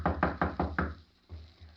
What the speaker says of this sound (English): Rap on the door.